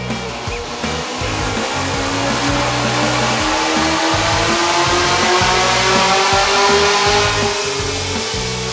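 A boosted Chevrolet Camaro engine running hard on a dyno with modified setup, a loud, sustained roar that climbs steadily in pitch as revs build, with a whooshing, whining boost tone layered over the rumble and no talk.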